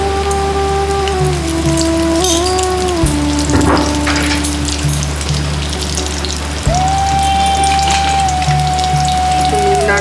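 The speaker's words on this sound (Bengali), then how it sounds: "আমি প্রথমে আলুগুলোকে ভেজে নিচ্ছি তেলে।" Potato pieces frying in hot oil in a pan for a Bengali chicken kosha, a loud, steady close-up sizzle and spatter that continues without a break, with a faint tonal hum underneath.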